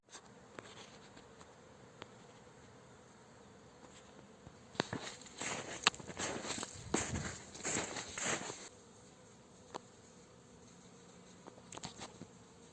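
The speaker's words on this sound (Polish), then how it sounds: "ja łapę te pszczoły, bo szkoda ich." Low, faint buzzing of bees at a log hive on their first spring flight drifts in the background, swelling into louder buzzing and rustling as bees are gathered by hand midway, before fading again.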